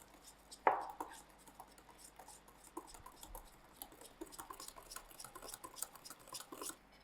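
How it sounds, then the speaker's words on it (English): Milk mixture is stirred into Malva pudding batter in a bowl: quiet, irregular wet clicks and scrapes of a utensil against the bowl, following a sharp knock near the start. No voices. "to this I'm going to put half in of the milk mixture to it and give it a good mix"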